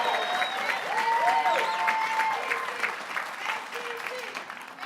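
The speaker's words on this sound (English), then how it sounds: "Let's give him one more round of applause." Crowd at a hotel and motel trades union rally claps steadily, a dense wash of applause with cheering and a voice rising through it, fading a little toward the end.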